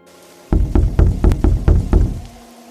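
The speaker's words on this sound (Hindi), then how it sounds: "तभी दरवाजे पर एक बहुत ही हल्की दस्तक हुई।" A soft series of about seven evenly spaced knocks on a wooden door sounds close and isolated against a quiet night background, in a Hindi horror story.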